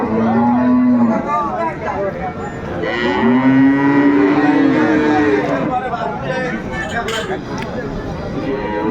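Cows moo loudly and repeatedly at close range at a cattle market, long low drawn-out calls, with people's voices talking in the background.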